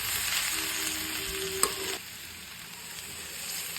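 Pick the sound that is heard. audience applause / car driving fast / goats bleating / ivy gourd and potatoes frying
ivy gourd and potatoes frying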